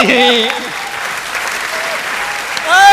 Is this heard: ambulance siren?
no